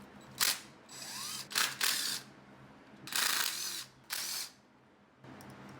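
A ratchet wrench undoes the 10 mm valve cover nuts on a Honda D-series engine, bursts of rapid clicking ratcheting repeating in several separate runs, close and fairly crisp, with short pauses between.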